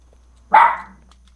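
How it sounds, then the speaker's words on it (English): A single loud dog bark, sharp and close, cutting through a quiet game scene of zombie survival in Unturned, then decaying quickly into silence. "Loud dog."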